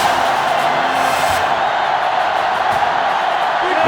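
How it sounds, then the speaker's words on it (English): A sellout stadium crowd in the NCAA Football 06 video game keeps up a steady, loud roar throughout, with no clear breaks. "The sellout crowd is really making a difference now as these guys can't even call the play"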